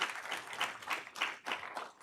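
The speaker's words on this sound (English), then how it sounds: "If I could have a round of applause for the panel." Audience applause for a panel at an energy policy forum: many hands clapping steadily in a dense, continuous wash with slight swells, fairly close and moderately loud, no voices.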